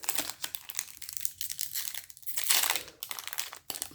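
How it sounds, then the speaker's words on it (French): Foil wrapper of a Duel Masters DM-07 trading card booster pack torn open close up, a steady run of crisp crinkling and tearing with a few sharper rips, no voices. "Le booster s'ouvre assez facilement"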